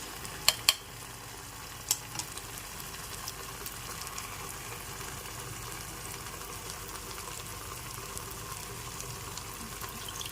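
Whisked sour yogurt goes into a pan of frying tomato and capsicum masala for dahi aloo dum: two sharp knocks at the start, then a low, steady sizzle and faint stirring.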